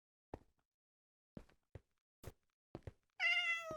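A cat in the video game Minecraft gives one clear, close meow after several soft thunks and footstep-like taps, with no talking.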